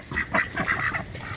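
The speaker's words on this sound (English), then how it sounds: "and this is Disco Duck" A duck, a pet domestic bird kept with Pekin ducks, calls in a short run of honking quacks, fairly close and loud, over about a second.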